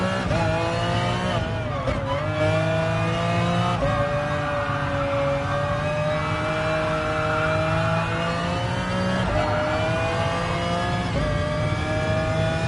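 A McLaren F1 GTR race car engine in GT Sport revs loud and continuous, its pitch climbing through the gears with sharp drops at each upshift and a steady high whine.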